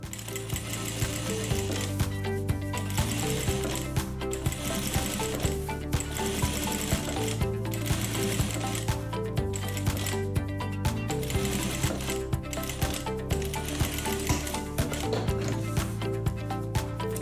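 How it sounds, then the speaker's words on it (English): Sewing machine stitching four rows along a fabric wallet strap, a fast steady mechanical chatter running continuously with the motor pitch shifting between passes, close and loud with no talk. "I'm going to do 4 rows of stitching."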